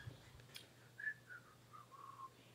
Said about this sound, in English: I'm whistling if you can't hear me.